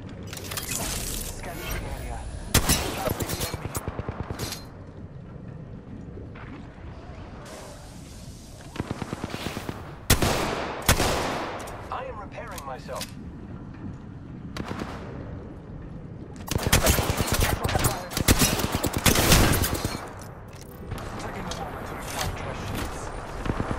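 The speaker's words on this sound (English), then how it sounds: "The enemies are shooting at me." Gunfire from enemies in the battle royale game Apex Legends: rapid automatic bursts and single shots in repeated loud volleys, mixed with game effects and a voice speaking.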